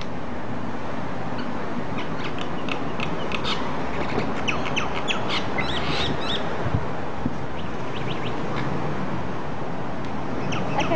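Birds scuffle and squawk in a fight, a run of sharp chirps and harsh cries clustering through the middle over a constant background hiss, close and moderately loud.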